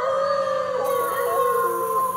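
Wolves howling, several sustained wavering howls overlapping in a steady chorus, loud and close throughout.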